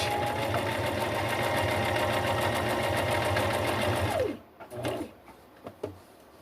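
Sewing machine stitching a two-tone collar, running steadily and loudly for about four seconds, then stopping, followed by a few small handling knocks.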